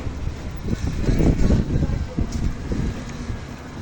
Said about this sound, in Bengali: প্রচণ্ড বাতাস, ঝড়